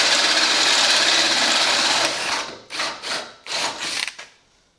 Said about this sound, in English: I've just gotta drill these two more holes